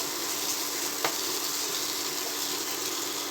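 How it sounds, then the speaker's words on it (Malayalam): Water from a ground spice paste is poured into a pan for brinjal gravy, producing a steady close hiss of liquid meeting hot oil, with a single small clink partway through. "അരച്ച വെള്ളം ഒഴിച്ച് കൊടുക്കാം."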